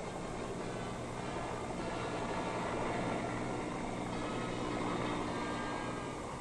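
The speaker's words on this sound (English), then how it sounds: "It's the giant United States Army Chinook helicopter, and the downdraft from the huge rotors nearly blows them off the flight deck" A giant US Army Chinook helicopter on a flight deck during the Vietnam War, its huge rotors producing a loud, continuous broadband roar that fills the whole stretch without letup.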